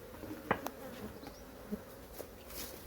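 Honeybees buzz at the hive in a soft, continuous hum, with a few brief nearby buzzes passing close.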